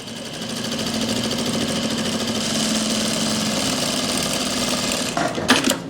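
Sewing machine stitching the waistband of palazzo pants: a steady, loud mechanical whir running continuously for several seconds, ending in a few brief bumps and rattles as the machine stops.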